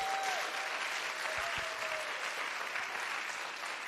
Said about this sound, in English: Let's give another round of applause to Miss Patty for having us.